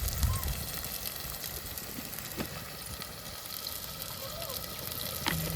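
Onions and prawns sizzle steadily in a hot pan, a dense continuous frying hiss at moderate level with occasional faint clinks.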